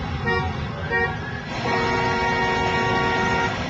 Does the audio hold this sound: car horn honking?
yes